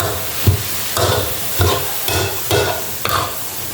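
Sponge gourd is stir-fried in a pan, a spatula scraping and tossing in regular strokes about every half second over a steady sizzle, close and clear with no talking.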